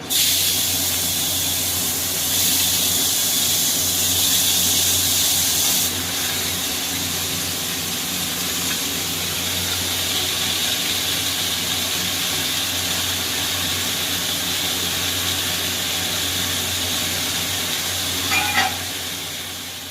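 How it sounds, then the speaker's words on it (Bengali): Chopped bottle gourd frying in a little oil with cumin seeds, a steady loud sizzle and hiss throughout, with a brief clink of a utensil near the end; no talking. "জিরে ফোড়ন দিয়ে এবারে লাউটাকে ছাড়ব অল্প তেলে"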